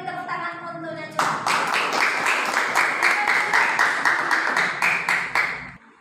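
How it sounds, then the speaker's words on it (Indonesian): A classroom group claps for a student presenter, Najwa, with a brief lead-in of voices before a burst of lively, rhythmic applause from a small audience that continues steadily for several seconds, then stops. "Kita beri tepuk tangan untuk Najwa."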